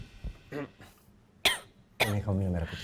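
A woman coughs in short bursts, a couple of sharp harsh coughs spaced over a few seconds, close and fairly loud with voiced throaty tails and no talk around them.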